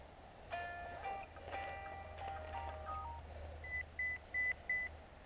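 A phone rings with an incoming call, a melodic electronic ringtone of short tones, then a run of four evenly spaced sharp beeps, fairly faint over steady background noise.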